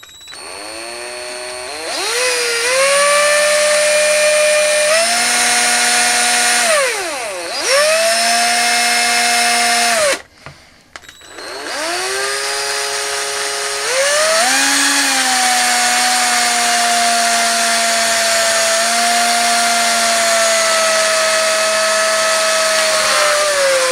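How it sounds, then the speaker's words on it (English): A power drill whines steadily at high pitch while drilling a hole in a vintage plastic toy part, its motor pitch dipping and rising as it bites in, with a brief pause midway; no voices. "I'm just going to very carefully drill a hole into the end"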